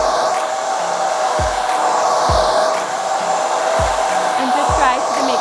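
A handheld hair dryer runs steadily and loudly at close range while blow-drying hair at the roots, its continuous airflow whoosh holding even throughout with a few low thumps from handling.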